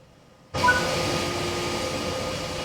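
Locomotive coupling to wagons in the Train Sim World 3 railway simulator, with a sudden clank followed by a steady mechanical rail rumble that holds for a couple of seconds.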